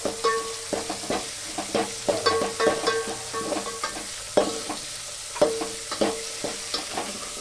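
Tomatoes and chillies frying on low gas while being stirred, close repeated spatula scrapes and taps in an uneven rhythm over a gentle background sizzle.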